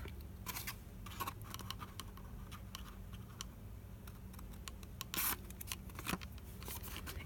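Scissors snip small bits off a paper envelope in a budget journaling craft setup, giving a run of quiet, close clicks and crisp cuts with one louder snip near the end and no talking.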